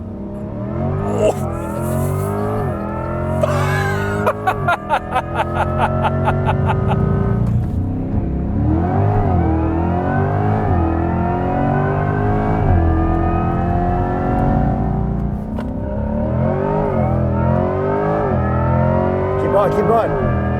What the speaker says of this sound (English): we've got the 2024 Corvette E-Ray. With launch control.